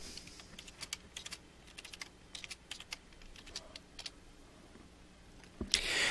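Login username and password are typed on a computer keyboard, a quiet, close sequence of irregular key clicks, ending in a louder thump and rustle.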